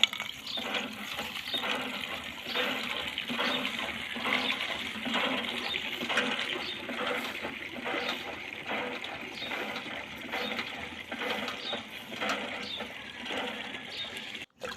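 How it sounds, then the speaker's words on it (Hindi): Hand pump (nalka) drawing water in the early morning, a steady repeated creak-and-gush rhythm of strokes with water splashing throughout, fairly close and continuous. "देखो मुई पानी मारी छे।"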